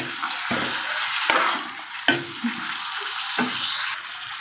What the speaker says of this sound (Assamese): মাংসখিনি মই এতিয়া ভালদৰে লৰাই দিম